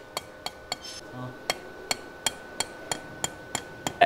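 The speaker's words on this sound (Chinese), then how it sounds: "然后我们把这个丝杆呢对着这个孔砸进去。" Steady, evenly spaced hammer blows, about a dozen sharp strikes, drive a threaded rod into a hole drilled in a floor. The strikes are close and crisp over a quiet room.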